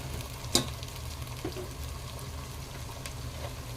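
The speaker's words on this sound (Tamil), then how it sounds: "இது எல்லாத்தையும் நல்லா வதக்கிக்கலாம்." Onions and tomatoes sautéing in a pan, a quiet steady sizzle with one sharp clink of a utensil and faint stirring scrapes, close with no talk.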